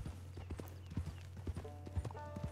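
Horse hooves clip-clopping at a steady walking rhythm in the Western video game Red Dead Online, a faint, regular beat of hoof strikes with a low hum running beneath.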